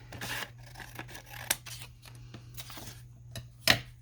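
Scissors snip through card stock in a quiet papercraft setting, giving a few soft, close cuts and rustles over a low background hum, with one sharper snip near the end.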